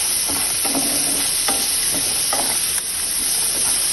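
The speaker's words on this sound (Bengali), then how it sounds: "এবার সামান্য নুন দিয়ে এগুলোকে ভাজা ভাজা করে নেব।" Capsicum, peas and other vegetables fry with a little salt in a pan for fried rice, giving a steady close-up sizzle and hiss. Occasional scraping and stirring knocks sound over it, with no voices.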